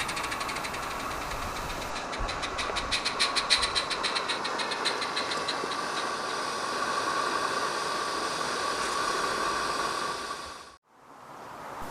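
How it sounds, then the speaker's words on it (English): A miniature railway train rolls into the main platform at Gilwood Station on the Aireside Railway, a steady mechanical rumble with rhythmic clicking and a faint engine knock, running evenly before cutting off abruptly near the end. "The train now arrives back on the main platform of Gilwood Station"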